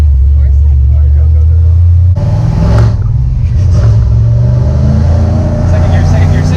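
Ford Mustang with a manual gearbox accelerating, its engine drone rising and then dropping and climbing again through a gear change, heard from inside the car with people talking over it.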